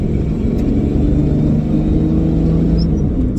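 A 1962 Ford Falcon with a 200ci six and T5 gearbox runs in first gear, its engine holding a steady, loud low rumble and drone that stays close and even the whole way through, with no one talking.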